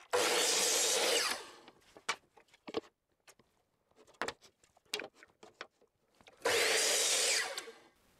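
A power saw cuts through wood at a 50 degree mitre angle in two loud bursts of whining, roaring cutting, separated by quiet knocks and handling sounds of the workpiece.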